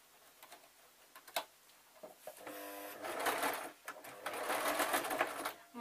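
A sewing machine runs a running stitch along a lamb puppet, starting with a few soft ticks and clicks before bursts of rapid, steady stitching that stop and start, close and fairly loud with no talk.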